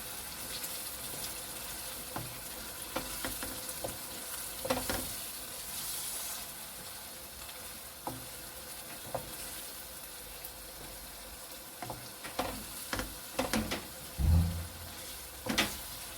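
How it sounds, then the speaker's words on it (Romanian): Potato stew with chicken breast is stirred in a pot, a soft steady sizzle and simmer with scattered scrapes and clinks of the spoon, a few louder knocks near the end, close by. "Și amestec bine."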